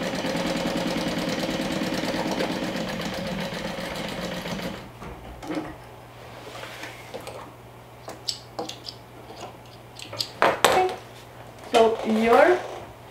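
Domestic sewing machine stitching the sides of a pocket, a steady close mechanical hum and rapid needle chatter for several seconds before stopping, followed by fabric handling and someone talking.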